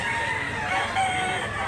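A rooster crows once, loud and close, amid the din of a chicken market in Cebu where fowl are sold, the call sustained across the short span with background bustle.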